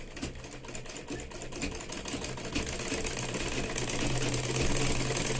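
A sewing machine runs a steady stitching rhythm through blouse lining layers with long basting stitches, a continuous close mechanical whir that grows slightly louder toward the end.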